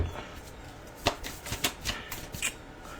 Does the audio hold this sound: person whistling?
no